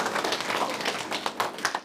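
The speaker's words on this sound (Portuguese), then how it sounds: "vamos dar uma grande salva de palmas para a Michele que veio aqui" Applause from an audience at a mosque question-and-answer gathering with Canadian visitors, a steady dense patter of many hands clapping close by with a few sharper claps standing out.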